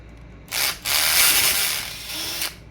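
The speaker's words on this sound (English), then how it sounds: "It was just the clutch. Just the clutch slipping." A Traxxas Bandit RC car's clutch slipping gives a harsh, loud whirring grind that starts abruptly, drops out briefly, then runs steadily for about two seconds before cutting off, with no talk over it.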